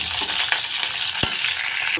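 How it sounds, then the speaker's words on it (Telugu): Curry leaves crackle and sizzle with mustard seeds and urad dal in hot oil, a dense close frying hiss with a sharp pop near the middle. "కొద్దిగా కరివేపాకు వేసుకొని కలుపుకుందాం"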